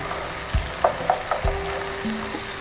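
Bacon frying in a pan for a yellow split pea soup, giving a steady close sizzle with a few soft taps and clinks of utensils, no voices.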